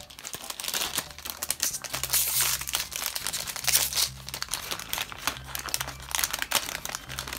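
A plastic LEGO Super Mario blind bag is torn open and handled, giving steady close crinkling and rustling throughout, with sharp crackles and soft thumps from the contents shifting inside.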